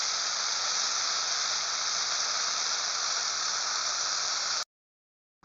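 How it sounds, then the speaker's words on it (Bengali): Sweet pulla bhaji frying in a pan gives a loud, steady hiss-like sizzle with no break, then cuts off abruptly near the end. "এবার ভেজে নেব।"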